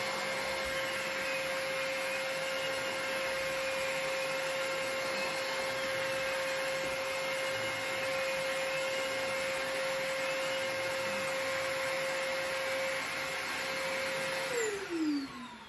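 A Perfect C105B battery-powered canister vacuum runs steadily with a high whine and broad airy rush, holding constant before winding down abruptly at the end.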